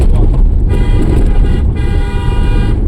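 A loud car horn sounds in long, sustained blasts at a milk truck over rumbling engine and road noise, close by.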